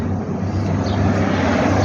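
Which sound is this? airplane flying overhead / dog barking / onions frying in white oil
airplane flying overhead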